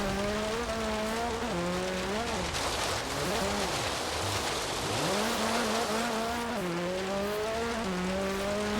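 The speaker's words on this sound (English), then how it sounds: "listen to that turbo inline 4 rally engine thing" A turbocharged inline-four rally car engine in Forza Horizon 3 revs up and down continuously, its tone rising and dipping through gear changes, loud and close, with a voice talking over it.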